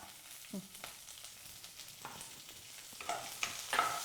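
Curry leaves and cumin seeds hit hot oil in a frying pan, giving a soft, steady sizzle with occasional crackles and a few stirring scrapes, faint and close.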